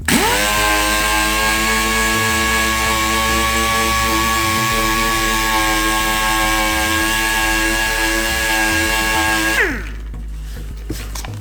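A power sander works a Kawasaki KXT250 three-wheeler gas tank with 320-grit paper, making a loud, steady, high whine for about nine seconds before spinning down and stopping.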